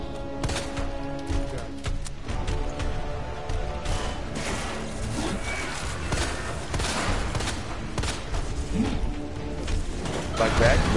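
Gunfire in the video game Resident Evil 2, with repeated shots and impacts mixed into dense game sound effects and music, loud and continuous throughout.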